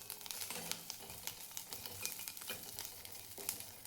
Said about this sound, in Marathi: लसूण टाकायचं आहे, लसूण भाजून घ्यायचं आहे.